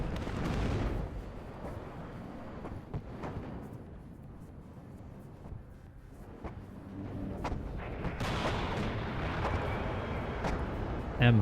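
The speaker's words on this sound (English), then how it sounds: "Look at those missiles coming out though." Missiles launching and detonating during a massive airstrike in the strategy video game WARNO: a continuous dense rumble of blasts and gunfire-like bursts, loud and sustained, with sharper impacts building toward the end.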